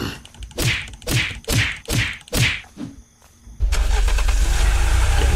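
A car engine in a video game cranks in five or six rhythmic, rising starter pulses, then catches and settles into a loud, steady running roar.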